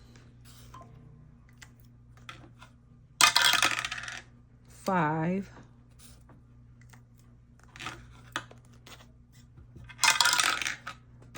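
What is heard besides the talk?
rolling a die in a dice game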